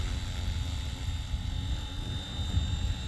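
An RC helicopter flies 3D maneuvers on a Flywing/Nexus setup running Rotorflight, heard as a steady rotor drone with a high motor whine, moderately distant and without talk.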